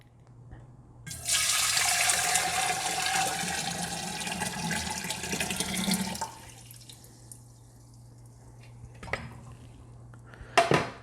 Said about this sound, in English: So I've poured that into my container.